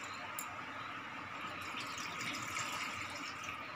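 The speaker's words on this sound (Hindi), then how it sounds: "उसके बाद इस कटोरी से 3 कटोरी पानी डाल देंगे।" Water poured from a kitchen bowl into a pan while preparing semolina (suji) cutlets, a steady, continuous hiss of liquid running at moderate level throughout, with no talking.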